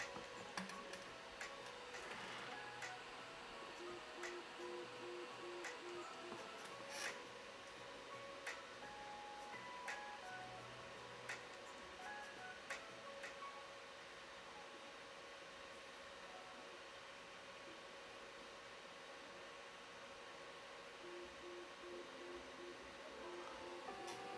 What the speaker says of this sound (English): So printer's doing fine.